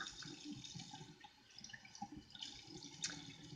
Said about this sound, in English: You probably can't even hear me over the water.